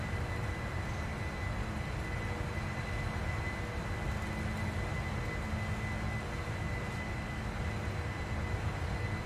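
Boeing 747-400 taxiing in a flight simulator game, a low steady engine rumble and whine holding evenly throughout with no voices over it.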